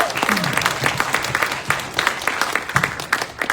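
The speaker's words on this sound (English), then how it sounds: "That deserves a round of applause, guys." A crowd at a student town hall with county elected officials applauds, a dense, lively burst of many clapping hands with some cheering mixed in, loud and sustained throughout.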